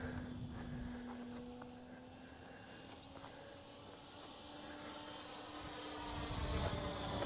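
An Eclipson 3D V2 RC model airplane's electric motor runs at half throttle, a steady faint whine heard alongside gusty wind noise.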